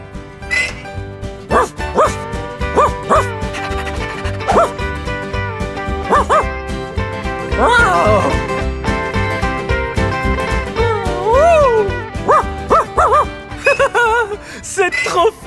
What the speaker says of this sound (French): C'est là que les chiens dorment!